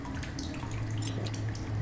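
Water trickles and drips in a video game as a character drinks, a steady close splashing flow with small drip accents and a low hum beneath, no talking.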